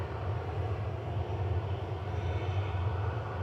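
Pegasus Airbus A320neo, registration TC-MBZ, arriving at Manchester Airport from Antalya: a steady, loud jet engine roar with a deep low rumble that holds constant throughout, with no talk over it.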